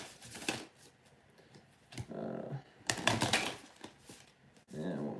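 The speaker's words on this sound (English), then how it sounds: "Yeah, one more shuffle." Tarot cards are shuffled in quick, crisp riffling bursts, several separate rounds close to the microphone with soft pauses between, quiet overall.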